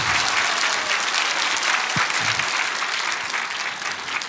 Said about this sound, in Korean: 다시 한번 뜨겁게 박수하겠습니다.